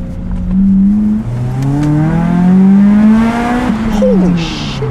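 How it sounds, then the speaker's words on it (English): A Toyota Celica MK7 engine revs hard through the gears toward the redline, its rising, steady howl loud and close and dipping briefly between pulls before climbing again. "Like you don't just hit the red line all day."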